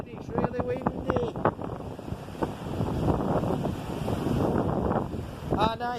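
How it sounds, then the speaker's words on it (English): Strong, gusty wind blusters against the microphone under a seaside pier on a cold beach, with someone talking over the roaring buffeting. "Really cold here and it's really windy."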